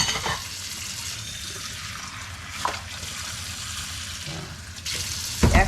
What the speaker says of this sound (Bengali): এটা আমি ছোটো একটা বাটিতে আলাদা ভিজিয়ে নিব